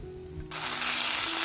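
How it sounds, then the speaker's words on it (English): Bratwursts hit a hot grill and break into a loud, steady broadband sizzle after a brief quieter moment, the hiss continuing evenly with no talking. "Place the brats on the grill and cook them for about 2 to 3 minutes on each side."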